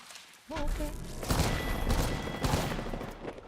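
Charge rifle and other gunfire in a shooter video game, a sudden onset of heavy, continuous blasting with several louder bursts over a few seconds, and a brief voice underneath near the start.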